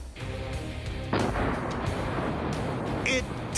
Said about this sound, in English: Let's replay the explosion.